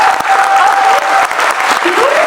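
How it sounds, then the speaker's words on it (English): Applause from an audience at an event celebrating a World Chess Championship victory, loud and continuous for a couple of seconds, with a tonal whistle or feedback line running over it. "can you have a huge round of applause for Chess Face India to have this archive?"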